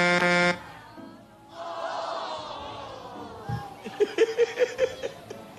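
A short, loud honk sounds first, then a voice and laughter follow, ending in a rhythmic series of beeping tones.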